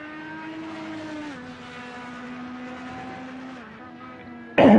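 Indycar race car at Laguna Seca in a racing sim, a steady whining engine note holding pitch with slight dips as it runs through a corner, then a sudden loud burst at the very end; no voices.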